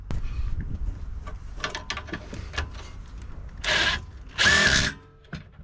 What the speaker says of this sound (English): On with the impact tool.